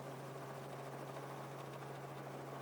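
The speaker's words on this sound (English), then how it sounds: "We just took off on a helicopter adventure that I'll never forget." A helicopter lifts off from a base camp in Alaska, its engine and rotor producing a constant droning hum with a strong low tone, heard faintly and steadily without talk.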